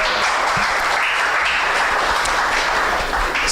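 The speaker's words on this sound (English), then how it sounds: "Keep clapping." Audience clapping at a skills hub talk event, a dense, steady wash of applause from a crowd that holds at full strength for a few seconds without a break.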